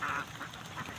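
Domestic ducks kept as farm animals quack loudly and continuously up close, several overlapping calls with no speech.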